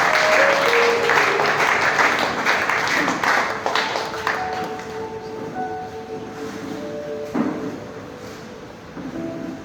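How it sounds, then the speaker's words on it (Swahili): A Sunday congregation at St. Peter's Church in Shimo la Tewa claps loudly at first, then the applause thins and fades into scattered claps and low murmuring. "Basi nataka tupige makofi"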